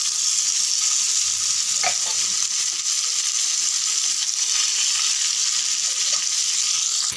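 Fish fries in oil with curry leaves, giving a steady, bright sizzle that hisses continuously throughout. A faint scrape or stir breaks in briefly near the start.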